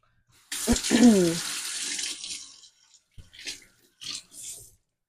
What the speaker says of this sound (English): So I'm going to rinse my hands off.